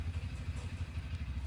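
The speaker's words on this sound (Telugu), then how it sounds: "చూడండి, మన బైక్ కొద్దిగా స్టార్ట్ చేసుకున్నాము." A Bajaj Pulsar N160 motorcycle engine idles close by with a steady, even low-pitched pulsing throb that runs throughout.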